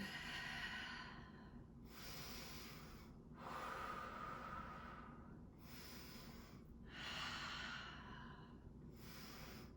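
Slow, deliberate breathing during a yoga session, with three or four long audible inhales and exhales close to the microphone, airy and soft over quiet background hiss.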